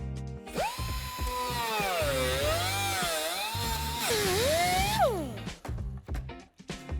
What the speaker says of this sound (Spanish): En esta ocasión vamos a usar una sierra circular para realizar dicho recorte.